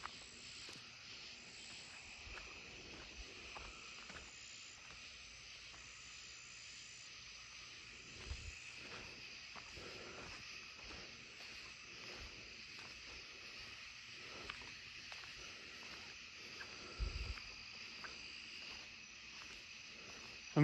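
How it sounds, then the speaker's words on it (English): An eastern striped cricket chirps in a steady high-pitched trill outdoors around a house at night, faint and continuous, with a few soft thumps and rustles from someone moving nearby. "It sounds like one of those eastern striped crickets might be nearby."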